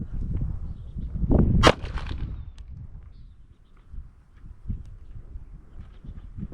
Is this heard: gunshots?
yes